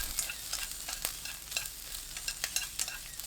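Carrots stirred with wood ear mushrooms in oil over high heat in a pan, a quiet, steady sizzle broken by repeated scraping and tapping strokes of the spatula, close by, with no talk.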